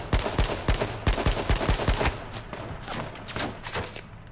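Rapid bursts of gunfire in the battle-royale game H1Z1 King of the Kill, a string of sharp close shots in quick clusters during the first two seconds, then scattered lighter reports fading into background noise.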